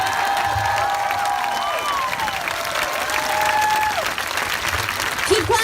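A crowd at an outdoor Portland rally in solidarity with Charlottesville claps steadily and loudly throughout, with voices calling out over the dense applause.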